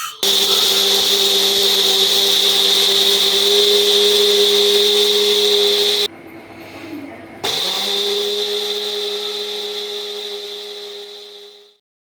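An electric mixer grinder grinding haldi, red chili powder and spices for chutney powder, a loud steady high whine that stops briefly midway, restarts, then winds down at the end.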